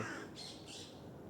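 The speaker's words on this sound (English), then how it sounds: "Can you see the crow up there?" A crow caws twice in quick succession, somewhere up above, over a steady outdoor background.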